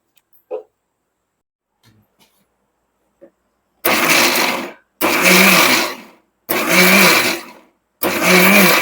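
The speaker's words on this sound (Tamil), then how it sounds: "இதை திருப்பி திருப்பி அரைச்சி எடுத்துட்டு எந்த பக்குவத்துக்கு இருக்கணும் அப்படின்னு ஒரு நிமிஷம் உங்களுக்கு காமிக்கிறேன்" A kitchen mixer grinder churns lentil batter for adai in four loud bursts of whirring, each lasting about a second, separated by short pauses after a near-silent start with faint clicks.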